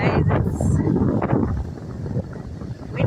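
Strong beach wind buffets the microphone in loud, rumbling gusts that roar continuously, with distant surf beneath.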